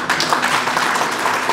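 A crowd at a political rally applauds in a brisk, even patter of many hands, moderately loud and continuous, without any voices over it.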